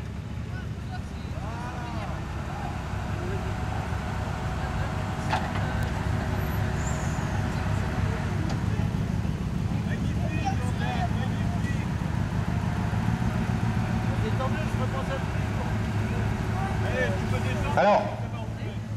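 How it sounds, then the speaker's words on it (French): Old Toyota BJ40 from the late 1970s idling and moving, a steady low diesel rumble throughout with a brief louder clunk near the end, while people talk over it. "vous êtes sans doute surpris d'entendre un vénérable Toyota BJ40"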